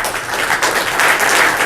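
A lecture-hall audience applauds to welcome a speaker, steady dense clapping throughout with no voices over it.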